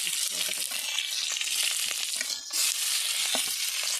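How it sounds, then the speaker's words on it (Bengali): Chopped onions fry in hot oil with bay leaf and cumin for a crab curry, a loud, steady hissing sizzle that briefly dips midway before surging again, with faint voice underneath. "এনে যে কুচনো পেঁয়াজ ছিল এই সে কুচনো পেঁয়াজ দিয়ে দেবো"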